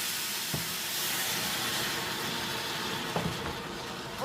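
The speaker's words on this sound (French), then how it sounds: "Et là maintenant, je vais rajouter mon eau." Water poured into a pot over fried garlic and stock cubes, a steady rushing hiss with steam-like sizzle throughout, a couple of soft knocks, close and fairly loud, no talking.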